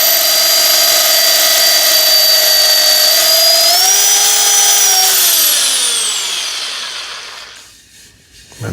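A lathe spins a wooden bowl while it is sanded with 400 grit, a loud steady whine that rises briefly in pitch, then winds down and fades as the lathe stops.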